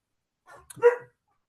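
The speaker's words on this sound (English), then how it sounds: "you can possibly also hear my dog barking in the background" A dog barks indoors in the background with a couple of short, moderately loud barks, a brief pause before them and quiet afterward.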